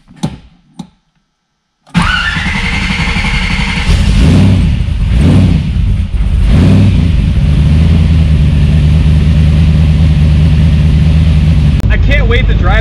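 After a few clicks and a silent pause, a 1,000-horsepower Pontiac Trans Am engine catches abruptly and settles into a loud, heavy, rumbling idle with surges of revving, and a brief whine near the end.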